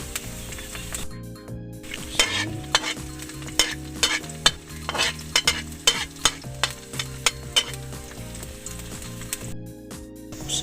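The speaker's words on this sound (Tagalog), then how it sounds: "Siyempre unahin natin yung bawang." Garlic sizzles in hot cooking oil in a pan while a utensil stirs and scrapes it in quick, irregular strokes, close and loud with no talking.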